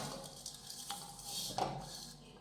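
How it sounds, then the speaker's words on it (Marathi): Cashew and almond slices are dry-roasted over low heat in a pan, heard as quiet sizzle with light scraping and a few clinks of a spoon against the metal. "हे काजू बदामाचे सुद्धा मंद आचेवर साधारण दोन मिनटं भाजून घेऊयात"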